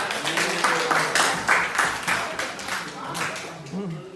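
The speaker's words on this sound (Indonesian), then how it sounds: "Berikan aplaus untuk kelompok 2 dan 6." Students in a classroom clap for groups 2 and 6, a dense, fairly loud patter of many hands with uneven peaks that fades somewhat toward the end, with voices mixed in.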